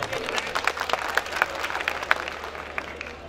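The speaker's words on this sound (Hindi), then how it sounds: "जमाल खान के नाम पे तो तालियां बजनी चाहिए थे कम से कम।" Applause from the audience at a mushaira poetry gathering in Sakinaka, Mumbai, a scattered clatter of claps that rises and fades over a few seconds with some crowd murmur underneath.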